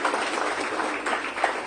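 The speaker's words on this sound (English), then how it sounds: "Let's have a huge round of applause for our dignitaries" Conference audience applauding the dignitaries at an international conference in Ghaziabad, a dense, steady wash of clapping from a crowd that fills the whole short moment with no voices on top.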